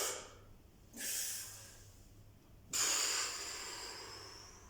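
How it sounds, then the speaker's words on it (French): A person doing a kettlebell exercise breathes in and out through the nose: a soft airy breath, then a sharper inhale, then a longer strong hissing inhale, all close to the mic. "et là j'inspire."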